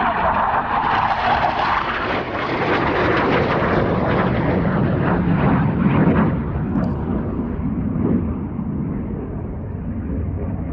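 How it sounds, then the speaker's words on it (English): A military-style jet roars low over the Lake District fells near Haystacks and Buttermere, a loud broad rushing roar that swells quickly, peaks, and then fades as it passes by, with no voices. "Might get another jet flying through in a minute."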